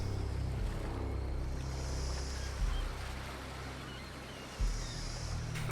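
A yacht rocking on the sea in Hooked on You, with soft washing water and a low rolling rumble, gentle hissing swells rising and fading, and a muffled thump near the end.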